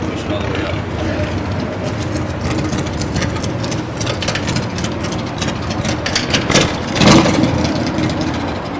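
A restored 1949 Harley-Davidson Panhead motorcycle engine runs with a busy mechanical clatter and low rumble, steady and close, with a brief louder burst near the end.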